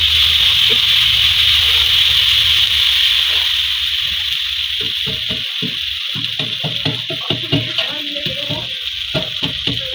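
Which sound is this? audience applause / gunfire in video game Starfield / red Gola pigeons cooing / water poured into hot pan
water poured into hot pan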